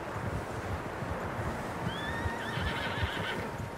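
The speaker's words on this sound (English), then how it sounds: "Horses, quite a few of them." A horse whinnies in a long, rising neigh over a steady windy rumble, with muffled hoofbeats faintly underneath, in the video game Red Dead Redemption 2.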